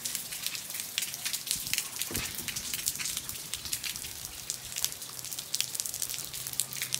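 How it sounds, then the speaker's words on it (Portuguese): Rain patters steadily at the Banabuiú reservoir in Brazil, dense, crackling drops striking a surface close by, a soft low rumble underneath and no talking. "Tem uns 10 minutos que tá chovendo."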